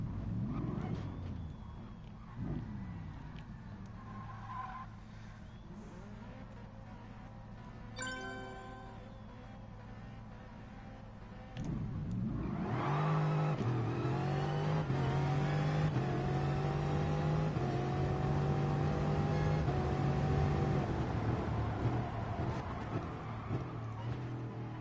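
A tuned Bugatti Veyron in Gran Turismo Sport, first a quiet low idle with a few faint clicks, then about halfway through a sudden loud revving roar that climbs steadily and holds to the end.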